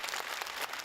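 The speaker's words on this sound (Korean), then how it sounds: "좀처럼 보기 힘든 공연에 객석을 가득 메운 관중이 힘차게 박수를 칩니다" An audience filling the seats at a high school arts dance performance claps vigorously, a steady, fairly faint wash of applause heard from a distance.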